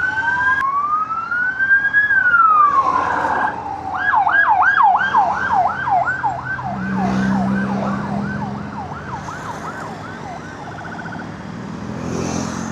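An ambulance siren passes in traffic, heard from a motorcycle: a rising and falling wail switches to a rapid, steady yelp, loud and close amid road and engine noise.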